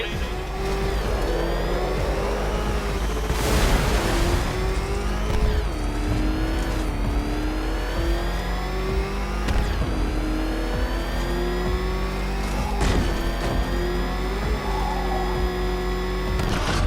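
The Batmobile in Batman: Arkham Knight races with its engine revving hard and continuously, a loud roar whose pitch rises and falls through shifts, with bursts of tire screech and impacts.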